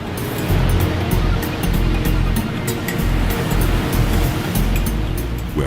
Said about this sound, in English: wild foaming waves roll noisily into naturally formed pools